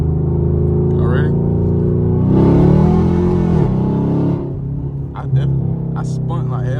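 A sixth-generation Chevrolet Camaro SS engine drones low inside the cabin, then surges in a loud rev as the car accelerates with wheelspin before settling back down. Voices talk over parts of it.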